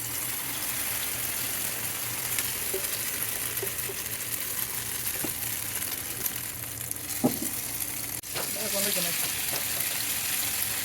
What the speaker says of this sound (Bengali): এটাকে ভালো করে গরম করে ডিমটাকে দিতে হবে